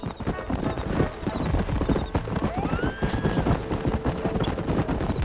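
Horse hooves clip-clopping at a gallop during a ride in Red Dead Redemption, steady rapid beats close by with occasional whinnies and other game sounds layered over them.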